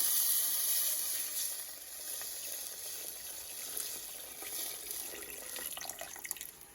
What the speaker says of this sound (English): Here I am adding 2 cups of water.